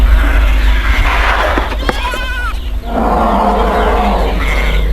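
Animal calls from a flock of sheep in a forest setting, with a loud wavering bleat near the middle standing out over a dense, continuous background of rustling and animal noise.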